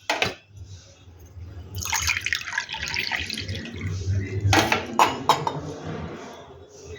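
Water is poured from a cup into a bowl of rice flour, splashing and trickling in bursts with a few clinks, moderately close and without speech.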